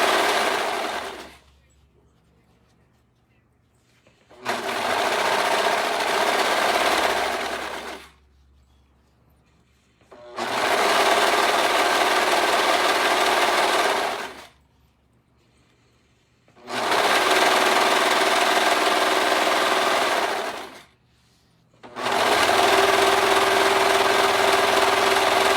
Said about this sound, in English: when you're serging, you're just trying to make sure you got both fabrics together